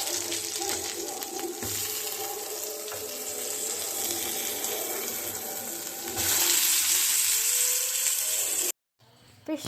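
Tuna fish pieces frying in plenty of butter on a tawa give a steady, dense sizzle that runs on without breaks, loud and close, before cutting out abruptly near the end.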